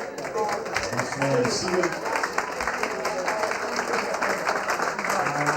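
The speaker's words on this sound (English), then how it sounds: "A nice round of applause for Maid of Honor Regina." Wedding reception guests at L'Auberge Del Mar in San Diego applaud the maid of honor, a steady round of clapping from a room full of people with a voice speaking over it.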